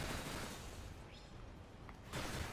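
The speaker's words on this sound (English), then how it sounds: "This is her attack, her gun, very powerful." Gunfire from a character's gun in Earth Defense Force World Brothers 2, a dense, steady wash of shots and battle noise that stays loud throughout, with a fresh heavier burst near the end.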